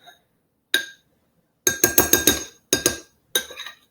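A metal spoon clinks against a drinking glass while mixing food coloring and oil, with one sharp tap followed by quick rhythmic bursts of ringing clinks, close and clear, no talking.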